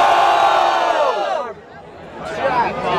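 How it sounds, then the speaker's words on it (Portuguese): A rap battle crowd cheers and shouts loudly in a big roar that dips briefly in the middle and then swells again. "Barulho pras rimas do Thiago"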